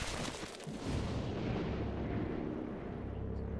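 Squad gunfire from XCOM: Chimera Squad booms heavily, with dense rumbling shots and blasts rolling together steadily throughout.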